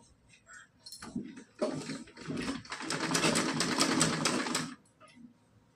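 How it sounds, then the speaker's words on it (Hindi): Sewing machine stitching a cotton dress, a short start followed by a steady, close run of rapid stitching for a couple of seconds, then stopping, with faint background sounds. "तो इस पे हम सिलाई लगाएंगे।"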